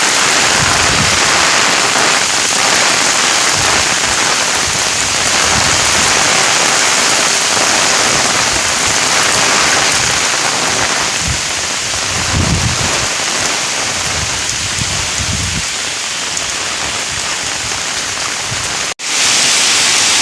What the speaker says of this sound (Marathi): पावसाचा जोर आहे ना पुन्हा एकदा वाढलेला आहे आणि पाऊस बघा किती येतो तो